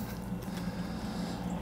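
A Chauvet DJ fog machine pump starts up to move water, a steady low mechanical hum and whir with faint clicking, close and continuous without speech.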